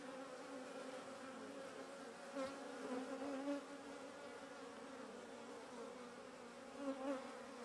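Dense, steady buzzing of many honeybees around a hive with new queens, close and continuous with slight swells in loudness and no talk.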